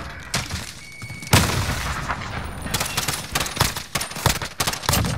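Gunfire from the Odin in a first-person shooter, a run of sharp shots with a strong blast near the start and several bursts that follow, loud and close over busy game noise.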